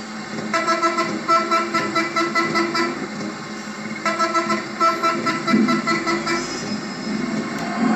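Bus horn in the video game Bus Simulator Indonesia, a loud musical multi-tone horn playing a rhythmic melodic pattern twice in a row, with engine rumble underneath.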